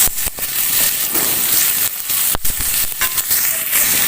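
Onions and ginger garlic paste sizzle steadily in a pan for an Assamese fish and radish curry, with a few sharp stirring scrapes and clatters breaking through the hiss.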